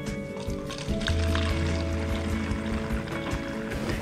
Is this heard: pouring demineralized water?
yes